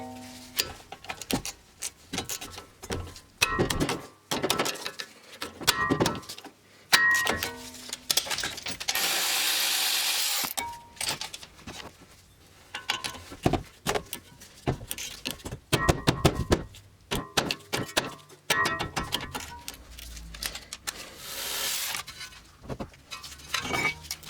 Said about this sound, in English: now we're going to go ahead and take off the caliper bracket bolts